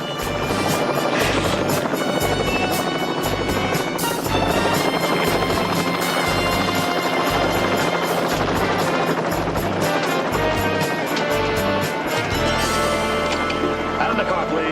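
A helicopter's rotor thumps in a fast, steady pulse close by, loud and continuous, with a high whine above it before the beat fades near the end.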